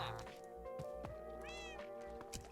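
A cat meows in the video game Minecraft, a few clear tonal meows rising and falling over a steady background of game music, close and moderately loud.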